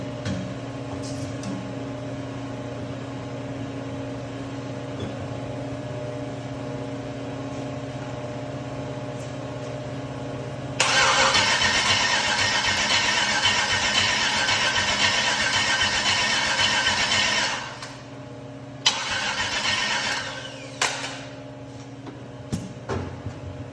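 An LS 6.0 V8 cranks over, trying to start: a steady whirring starter drone, then a louder stretch of churning for several seconds that drops off, followed by a few brief bursts.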